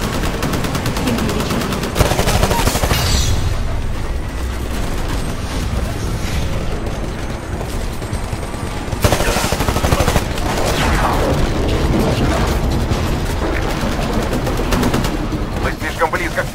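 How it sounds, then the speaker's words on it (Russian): Dense gun and cannon fire in the Titanfall video game, with rapid bursts, booming blasts and near-continuous loud shooting layered over a dense battle din, with a voice briefly heard amid the noise. "Разворачиваю пушки для очередного залпа."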